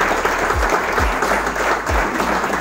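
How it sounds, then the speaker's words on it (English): An audience at an end-of-season football club gathering applauds loudly and continuously, dense clapping close up with a few low thumps, no speech. "big round of applause, well played boys."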